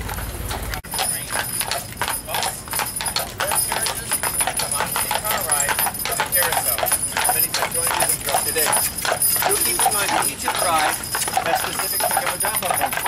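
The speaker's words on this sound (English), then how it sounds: "You can ride it and be pulled by a horse throughout the village." A horse pulls an omnibus through Greenfield Village, its hooves striking a steady, loud clip-clop rhythm up close with the rattle of the carriage, while voices talk over it.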